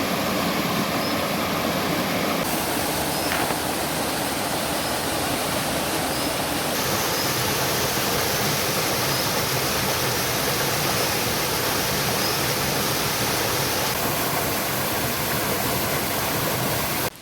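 A mountain stream near a village rushes steadily in a loud, unbroken wash of water that fills the whole scene from start to finish, with no voices over it.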